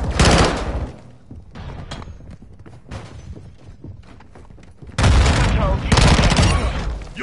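Loud first-person shooter gunfire on the El Asilo map, bursts of shots opening and closing the stretch with quieter scattered firing and radio-style voice chatter in between.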